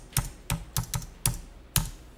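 Keys pressed on a computer keyboard, including the Enter key: six or seven crisp, close clicks at an irregular, unhurried pace, with no talk.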